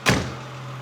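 A Triumph 2500TC car engine idles with a steady low hum, opened by a brief loud thump before settling into an even drone.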